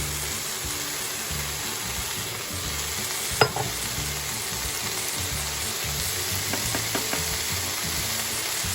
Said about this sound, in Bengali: এবার আমি এটাকে ভালো করে নাড়তে থাকবো।